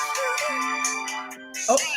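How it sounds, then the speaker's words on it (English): A phone ringtone plays a repeating electronic melody with a steady sustained tone, fairly close and clear, running through the whole moment while people talk and laugh over it. "Is that your phone ringing?"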